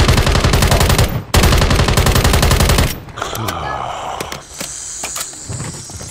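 Shotgun blasts in a shooting video game, a rapid string of loud, close booms for about three seconds, then scattered single shots and clatter trailing off more quietly.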